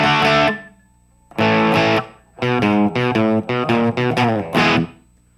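Distorted electric guitar picking a riff note by note: a few held chord stabs with pauses, then a quick run of separately picked notes, loud and close with no talking.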